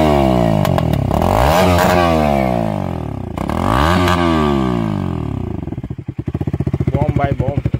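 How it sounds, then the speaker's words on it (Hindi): A motorcycle without an exhaust, with two holes drilled in the silencer, revs loudly and repeatedly up and down close by, then settles into a fast, choppy idle. "बिना एग्जॉस्ट के साउंड देख लो भाई, कोई भी मॉडिफिकेशन नहीं है, सिर्फ दो होल करवाए हैं साइलेंसर में"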